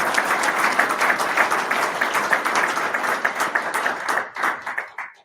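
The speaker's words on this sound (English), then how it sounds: "Let's give Mr. Farnan a big round of applause" Audience applause for the keynote speaker at an Army installations conference, a dense steady patter of many hands that thins and tapers off in the final second.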